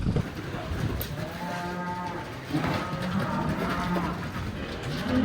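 Cattle on a farm moo loudly nearby, several drawn-out overlapping calls from more than one animal over a background of shuffling and farm noise.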